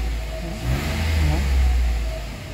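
Mitsubishi Mirage engine revving, heard close as a low, droning motor that rises in pitch and loudness and then eases back, steady throughout the short span.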